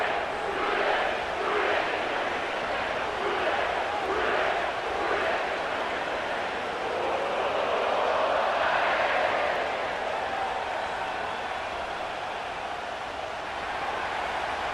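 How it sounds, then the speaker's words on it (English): A stadium home crowd in the Madden NFL 25 video game, Bengals against Eagles at Paycor Stadium, gives off a steady, diffuse roar with swelling cheers. The rally rises and falls at a moderate, distant level throughout, with no voices standing out. "you can already hear this home crowd rallying in support of that upset."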